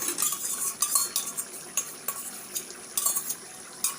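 A utensil stirs a mix of soy, chili and tomato sauces in a pan after ten minutes of simmering, making a close, steady wet scraping with soft clinks and a faint bubbling sizzle underneath.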